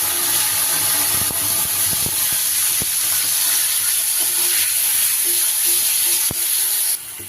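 Ground spice paste hits hot tempering oil for a Bengali vegetarian aloo dum, giving a steady loud sizzle with a few sharp clicks scattered through it.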